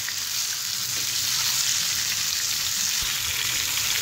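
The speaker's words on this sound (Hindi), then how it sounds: "अब हम इसके अंदर चिकन ऐड कर देंगे। चिकन को अच्छे से मिक्स कर देंगे।" Chicken frying in masala paste gives off a loud, dense, continuous sizzle close up, with only faint stirring beneath the steady hiss.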